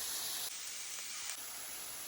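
Onion, ginger and garlic sauté in a pan, giving a faint, even hiss of sizzling oil that holds steady for a couple of seconds with no talking.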